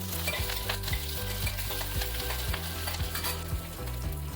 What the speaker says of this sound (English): Fry for a few seconds and add curry leaves.